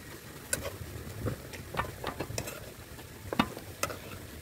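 Ginataang sitaw with pork liempo being stirred in a pan: quiet, scattered scrapes and clinks of a utensil over a soft, steady sizzle, with no talking.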